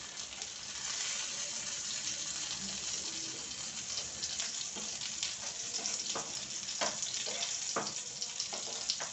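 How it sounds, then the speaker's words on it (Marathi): Stuffed green chillies fry in a pan for bharli mirchi, giving a steady, close sizzle with faint crackles and pops scattered throughout, and no voices. "छान खरपूस सगळ्या मिरच्या तळलेल्या आहेत"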